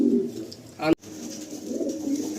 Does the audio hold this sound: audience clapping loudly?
no